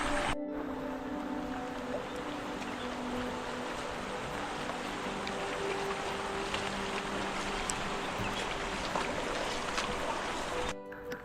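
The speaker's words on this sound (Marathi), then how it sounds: "सगळे नाले सुद्धा भरभरून वाहत आहेत" A monsoon stream rushes along a trekking path toward a waterfall, producing a constant broadband wash of flowing water that holds steady and close for over ten seconds.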